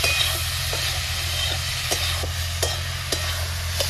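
Banana blossom frying in a pan with a constant loud sizzle, spatula scrapes and stirring clicks recurring every half second or so, no talking.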